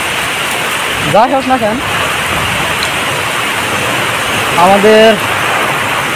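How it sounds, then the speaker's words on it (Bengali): Heavy rain pours in a storm with gusting wind, a dense continuous wash of noise while someone speaks briefly over it twice. "দেখেন কীরকম বৃষ্টি পড়তেছে, হাওয়া ঝড় তুফান।"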